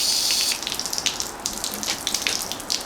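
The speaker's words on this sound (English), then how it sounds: "I'm going to water this plant right here." Water poured onto a potted bonsai tree, splashing and trickling steadily, close by, with a hissy pour and small irregular spatters throughout; no voices.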